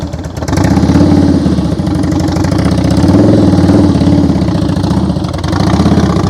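A Harley-Davidson Road King motorcycle engine rumbles steadily at low revs during slow-speed riding practice, a continuous loud, close throb with slight throttle swells.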